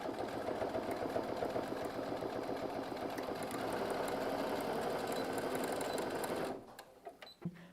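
A sewing machine runs steadily for about six and a half seconds, stitching a fabric bag strap and label with a dense, close mechanical whir before stopping abruptly, leaving a few small clicks.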